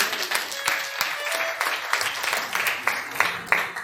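A church congregation at a Sunday service claps in applause, a dense, steady run of close hand claps with voices mixed in.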